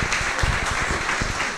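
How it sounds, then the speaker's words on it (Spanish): An audience bursts into applause at a public talk about the search for a city's origins, a dense, steady wash of many hands clapping fairly close, with no voices. "El público espontáneamente les brinda un aplauso."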